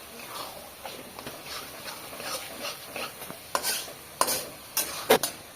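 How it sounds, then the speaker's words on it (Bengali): A batter of flour, water and a little sugar is stirred and mixed in a bowl, giving wet, uneven sloshing and clicking strokes that grow sharper toward the end, with faint talk in the background. "এই পানি দিয়ে পুরো একদম ঘেটে ফেলাবো"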